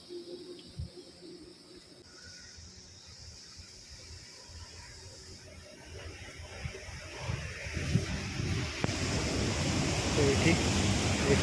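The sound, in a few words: falling water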